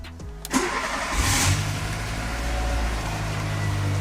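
A Volkswagen car engine cranks briefly and catches on the first try, then settles into a steady, loud, low idle heard up close with no talking.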